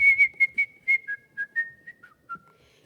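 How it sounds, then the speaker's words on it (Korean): A person whistles a short tune during a church youth service sermon, about a dozen clear, close notes that drift gradually lower in pitch and fade toward the end. "휘파람."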